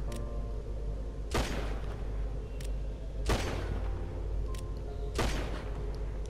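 Heavy revolver in a video game fires three loud, booming shots at roughly two-second intervals, each with a long ringing tail, over a constant low game rumble.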